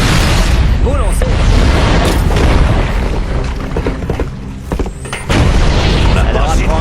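Grenade explosions in the Halo game boom loudly amid constant battle noise, deep rumbling blasts layered with gunfire and effects, while voices speak over the action.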